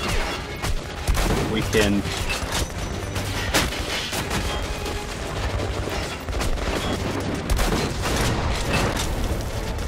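Repeated gunfire and heavy booms sound from a Metro Last Light game while shooting at targets, dense and continuous, with someone talking briefly over it.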